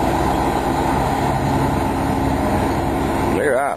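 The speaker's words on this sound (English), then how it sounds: "Kicking in them big engines." Big engines of a jet boat on the Niagara River roaring steadily at high power, heard from onboard as a loud continuous drone with wind and water noise, ending with a brief shift in pitch.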